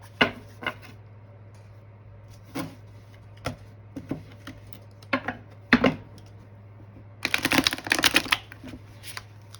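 Crisp, irregular taps and light slaps of slippery Universal Celtic Tarot cards being handled, ending in a dense riffling shuffle flutter; close, with a steady low hum beneath.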